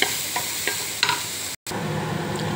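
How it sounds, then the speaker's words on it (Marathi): Chopped onion fried and stirred in a pan, giving a constant close sizzle broken by several scraping strokes of the spoon, with a brief cut near the middle and no talking. "कांद्याला पण थोडा भाजून घेऊया।"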